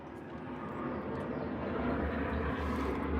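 An airplane passes overhead as a low, broad, steady rumble that swells slightly, heard outdoors with faint background noise and no nearby talk.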